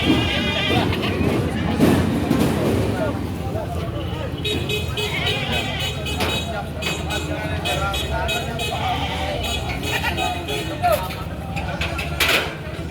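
Goats bleat now and then amid a noisy livestock auction market crowd, with people talking and general hubbub throughout.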